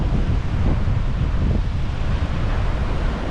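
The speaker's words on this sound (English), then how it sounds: "Here's the beach and the ocean." Wind buffets the microphone in a constant broadband roar at a beach in Taiwan, with ocean surf washing underneath; no voices, steady and fairly loud throughout.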